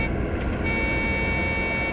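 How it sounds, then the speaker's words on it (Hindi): Steady horn or signal tone sounding in a forest, one sustained blast that fills the short stretch at an even level with no talk. "हॉर्न भी बजा रहा है।"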